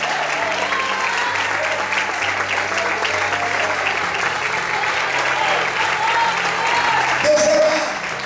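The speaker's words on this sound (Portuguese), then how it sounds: "Quem pode aplaudir?" Church congregation applauding during a sermon, a loud, dense and sustained wash of clapping filling the room, with a voice briefly rising near the end.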